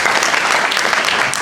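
Audience applause at a public meeting, a dense burst of clapping from a crowd that fills the moment steadily and loudly, heard on its own with no talking.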